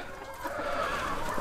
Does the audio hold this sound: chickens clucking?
yes